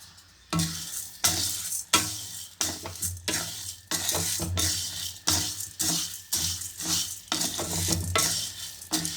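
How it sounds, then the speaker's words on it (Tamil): Sambar powder spices dry roasting in a pan, with repeated scraping and stirring strokes of a spoon against the metal in a steady rhythm, close and clear, over a light background hum. "இப்போ இதை நாம் வறுத்துடலாம்."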